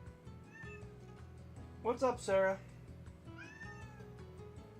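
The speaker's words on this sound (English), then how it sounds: "the cat's screaming at me" A house cat meows loudly and insistently, a few close, drawn-out wailing calls bunched together in the middle, while a person talks casually before and after.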